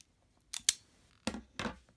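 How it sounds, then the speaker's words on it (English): Cutters snip through a short length of blue wire while wiring a fightstick, giving a few sharp, close crunching clicks in two quick pairs separated by a brief pause, with no talking over them. "We'll just cut off a little bit of it here."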